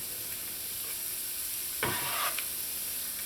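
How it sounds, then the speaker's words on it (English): Finely chopped onions and pepper hit hot oil with a sudden sizzle that swells, holds briefly, then settles back into a steady background hiss. "When your oil is nice and hot, you're going to add in your finely chopped onions, pepper,"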